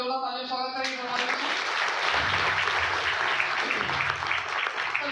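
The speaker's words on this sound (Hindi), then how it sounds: "हमारे प्राचार्य महोदय की जोरदार तालियों स्वागत करेंगे" Applause from the audience at a workshop on sensitivity toward the transgender community fills the room as a dense, continuous wash of clapping, following a brief moment of voice at the start.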